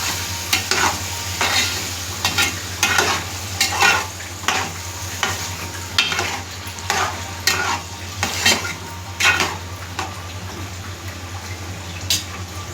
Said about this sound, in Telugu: వేసేసిన తర్వాత దీన్ని తిప్పాలండి